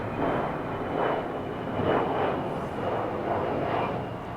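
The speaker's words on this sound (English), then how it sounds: "Actually, if you look up, it's a big jet in the sky." A jet airplane roars overhead, a broad steady rumble with gentle swells in loudness, no talking.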